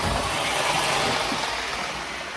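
A post-war Lionel 675 model steam locomotive races around the track, a steady, close whirring and rumbling rush that holds throughout and eases slightly at the end.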